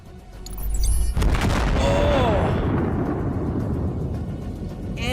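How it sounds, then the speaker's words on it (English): A Russian T-90M tank strikes a mine on a road and erupts in a fireball, heard as a sudden heavy boom followed by a long, rumbling roar that slowly fades. "The tank hits a mine, and where the Abrams and Leopard would have torn off the tracks, the Russian tank turns into a ball of fire."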